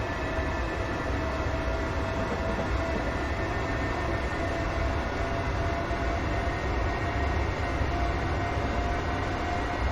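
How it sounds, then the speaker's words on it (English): A diesel passenger train on the Motherwell to Glasgow Central route, recreated in Train Simulator 2018, rumbles steadily along the track at speed, with a constant dense engine and rail roar that holds throughout and has no voices. "Starting to increase our speed now to 60 miles per hour."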